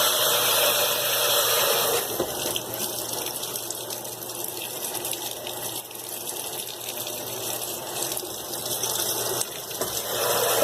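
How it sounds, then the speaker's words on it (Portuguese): Brastemp washing machine filling with strong-pressure water through its soap valve, a continuous gushing rush with a low mechanical hum, steady and close. "Ela vai continuar enchendo pela válvula do sabão"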